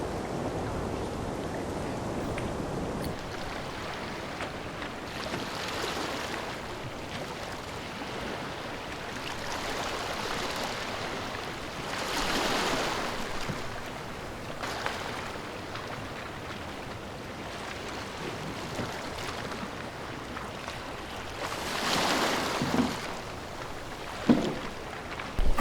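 A solo canoe pushing through choppy water on a fall camping trip, with a steady rush of waves and wind and surges of splashing against the hull, continuous and fairly loud, with a few knocks near the end.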